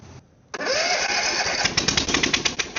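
A lawn mower engine that floods with fuel and runs rough with a stuck choke starts up after a moment of quiet, then runs loudly with an uneven, sputtering pulse.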